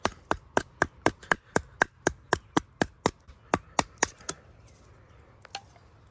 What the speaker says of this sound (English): you're going to take your knife and you're going to baton it in at an angle